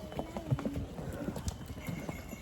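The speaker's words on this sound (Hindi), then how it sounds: "ओ भैया बहुत घोड़ा जा रहा है" Several horses pass along a forest trail near Matheran, hooves clip-clopping in an irregular, overlapping patter that sounds close, with outdoor ambience and occasional faint voices underneath.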